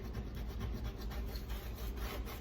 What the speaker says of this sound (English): The very stubborn one, you can get some of these and then just gently scrub them.